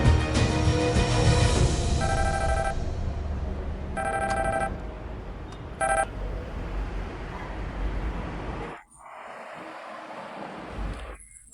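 Telephone ringing in loud electronic bursts, several repeated rings at roughly two-second intervals amid background noise, then cutting out into near quiet.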